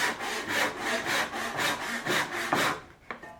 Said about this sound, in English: if you're learning to saw, you will have a little more leeway to stay away from the line with your rough cut